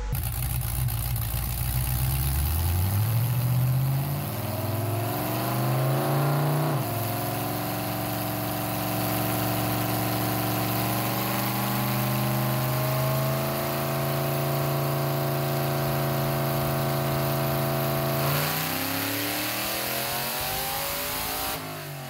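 A cammed 4.8L LS V8 in a burnout truck running on a hub dyno, climbing loudly through a long wide-open pull, holding a steady high drone near 7,000 rpm, then dropping off, with no talk.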